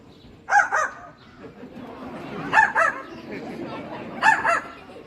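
A parrot mimics a dog's bark in three short double-yap bursts spaced a couple of seconds apart, over a soft background hum.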